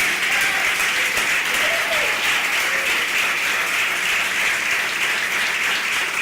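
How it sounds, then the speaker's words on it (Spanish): Steady applause fills a church congregation during a service, a dense wash of clapping hands that holds evenly throughout, with faint voices calling out beneath it. "ya le voy a dar ese aplauso"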